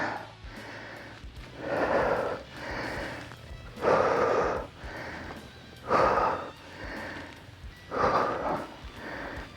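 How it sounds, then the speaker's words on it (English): Heavy, labored breathing close up, about eight loud rhythmic breaths in and out, each a rasping gust with brief pauses between. "Heavy breathing."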